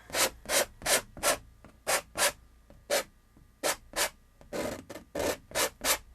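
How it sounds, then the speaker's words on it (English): A palette knife scrapes paint across canvas in a series of about fifteen rhythmic, rasping strokes, close and distinct with short pauses between them and no talking. "You're going to scrape it out."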